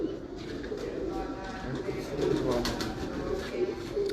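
Daku breeder pigeons from Kasur coo softly in a steady, low murmur of overlapping calls, close by under a busy background of ambient noise and a faint voice.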